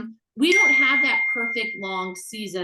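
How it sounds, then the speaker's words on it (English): A phone notification ding rings out once, sustained and tonal, ringing on beneath someone talking about composting. "Apologies for my phone."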